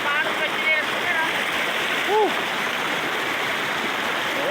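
A strong stream current rushes over rocks, a dense steady roar of water close by, with brief splashes and a voice briefly audible over the flow.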